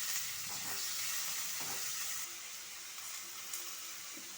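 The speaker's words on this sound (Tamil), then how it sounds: "இது எல்லாத்தையும் நல்லா கொல கொலன்னு வதக்கணும்." Green chillies and tomatoes are sautéed in a pan for a fish curry, giving a faint, continuous hiss and sizzle close by that settles quieter after a couple of seconds.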